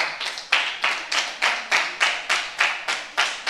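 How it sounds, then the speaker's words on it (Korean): A church congregation claps in unison during a Friday worship service, crisp synchronized claps landing in a steady rhythm of roughly three per second, loud and close, with no voices over them. "얘들은 닭만 먹을 때만 박수 쳐요"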